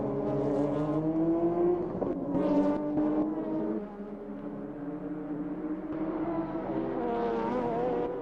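Race cars from the 1997 Le Mans 24 Hours, including a Joest Porsche and a Nissan, pass through the final chicane. Engine notes rise and fall as they brake and accelerate, heard from a moderate distance without talk.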